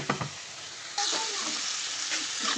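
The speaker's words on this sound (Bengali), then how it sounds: "এবার কপি উঠে মশলা দিয়ে ভেজে নিচ্ছি।" Cauliflower frying with spices in a pan gives a loud, close sizzle that swells suddenly about a second in and holds steady, with a few stirring knocks at the start and end.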